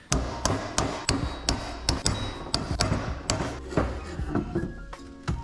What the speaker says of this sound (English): I got my chisel and I'm gonna bend that material back out